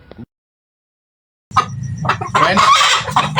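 A short chicken sound, then a brief silence, followed by a run of close, loud clucking from a desi (native Indian) hen.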